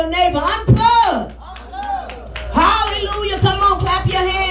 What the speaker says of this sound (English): Come on, clap your hands in here.